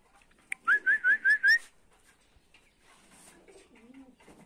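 Pigeons let out of their cages make a rhythmic run of five loud, close whistling coo-like calls, followed by softer murmuring and faint background sounds.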